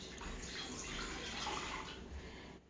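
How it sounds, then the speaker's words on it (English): A couple of cups of water poured out, giving a steady, soft splashing and trickling that runs continuously at low volume. "So she's gonna take a couple cups of water."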